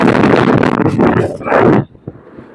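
Loud gusts of sandstorm wind in Saudi Arabia buffet the microphone in heavy roaring bursts, then drop away abruptly to a quieter background near the end.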